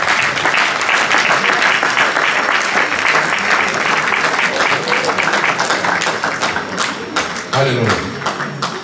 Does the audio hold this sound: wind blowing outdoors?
no